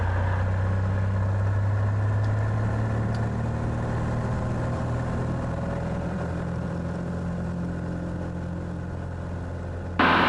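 Piper Cherokee 235 light aircraft with a new 230-horsepower engine at full power on its takeoff run, a loud, steady droning roar that holds constant throughout, with no talk over it.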